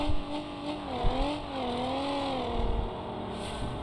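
A simulated car engine in the driving game BeamNG drones with a wavering, rising and dipping hum, with occasional thumps from the suspension and tires.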